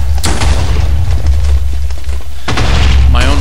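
Grenade blasts in Minecraft gameplay: heavy booming explosions with low rumble, one burst near the start and another around two and a half seconds in, loud and close.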